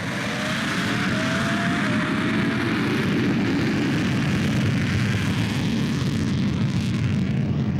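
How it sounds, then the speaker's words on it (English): A deep, steady jet turbine roar fills the scene, with the faint high-pitched whine of a Ferrari Formula One engine rising briefly above it, loud and continuous. "the deep sound of a jet turbine mixed with a high-pitched Formula One engine"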